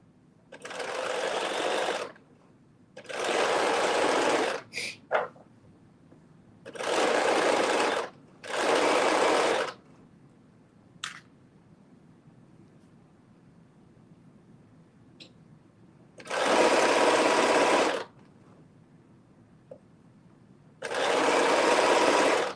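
A home sewing machine runs in short, loud bursts of stitching separated by quiet pauses, with faint handling noises between runs on a McCall's 7933 garment.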